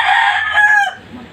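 A fighting rooster crows loudly and close by, one full cock-a-doodle-doo that holds for most of a second, breaks up and then trails off into quiet.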